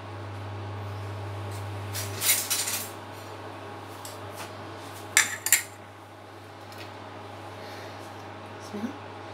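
Spoons clink against a steel dish while garlic, ginger, lemon and green chili are mixed into mashed bitter gourd chutney, giving a few short scraping clatters over a low steady hum, with quiet gaps between them.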